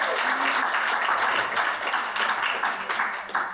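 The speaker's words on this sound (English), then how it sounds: "Let's have another round of applause." Loud, full applause from the audience at a women leaders summit, many hands clapping in a thick continuous roar that eases slightly toward the end.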